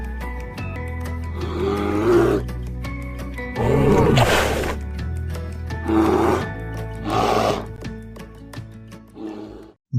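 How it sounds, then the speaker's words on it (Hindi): A bear gives deep, rumbling growls and roars in several long bursts separated by short pauses, loud and close, with no talking over them. "और अब आइए हम भालू की आवाज को सुनते हैं।"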